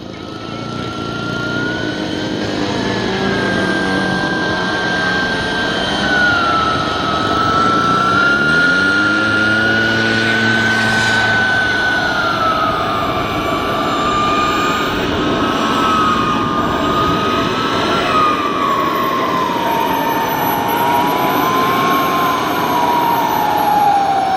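A Yak-130 radio-controlled turbine model jet at Joe Nall 2025 gives a loud, continuous turbine whine that rises and falls in pitch as it passes, heard alone without talk.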